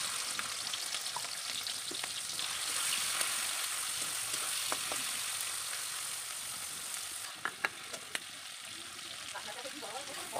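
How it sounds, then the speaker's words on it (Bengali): Shrimp coated in salt and turmeric frying in hot mustard oil, a steady soft sizzle and crackle throughout with occasional small pops and stirring clinks near the end. "এবার আমি এর মধ্যে নুন হলুদ মাখিয়ে রাখা চিংড়ি মাছগুলো ভেজে নিচ্ছি।"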